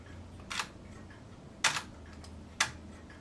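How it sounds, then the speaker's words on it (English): A single-lens reflex camera fires with crisp, close mechanical clicks as the mirror slaps and the shutter trips, three sharp ticks spaced about a second apart against quiet room tone. "First click was the shutter or the mirror slapping out of the way, and the second click was the shutter going off, taking the picture."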